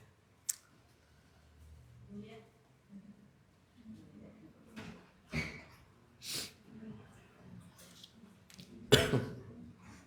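Several short, rough coughs break through a quiet room, spaced apart, with soft breathing and faint murmuring between them.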